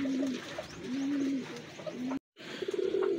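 Racing pigeons cooing in a loft, several soft, low rolling coos repeating near the listener, with a brief dropout midway before the cooing returns over light background rustle.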